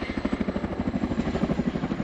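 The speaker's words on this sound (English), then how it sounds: "The Chinook has been used continually on battlefield helicopter support operations for 36 years" A tandem-rotor Chinook helicopter displays at the Dunsfold Wings and Wheels 2018 air show, its blades beating out a loud, rapid, steady thudding pulse that fills the air without pause.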